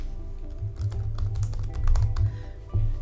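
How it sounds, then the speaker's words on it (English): Fast, steady typing on a computer keyboard, close and clear, with keys clattering in quick irregular bursts over a low background hum. "I type the title of the page"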